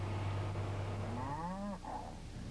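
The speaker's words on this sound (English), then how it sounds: "Dairy cows are like family to us." A dairy cow lets out one long, low moo on a farm, rising and then falling. It sounds moderately close over a steady background hum, with no talking.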